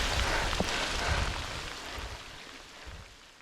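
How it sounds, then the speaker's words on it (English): Rain falls steadily on the south coast as a soft, even hiss of drops. It is quiet and fades slightly toward the end. "Yep, she's raining alright."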